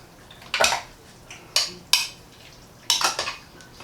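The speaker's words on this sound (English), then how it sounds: "I'm going to give this a stir." A utensil scrapes and clinks against a pot while peppercorns, oregano and thyme are stirred for a mole sauce, in five or six short separate strokes, close and fairly quiet with no talk.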